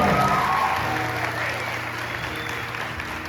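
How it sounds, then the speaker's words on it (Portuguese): A congregation at a church sermon gathering breaks into sustained clapping, loud at first and settling to an even, moderate level, over a low steady tone. "Uma salva de palmas"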